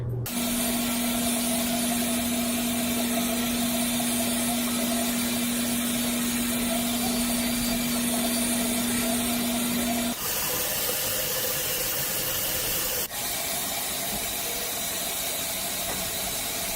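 Electric exfoliating cleansing brush scrubbing a face with Ambi Even and Clear Exfoliating Wash, giving a steady close motor whir over constant hiss. The whir cuts out about two-thirds through and the hiss continues alone.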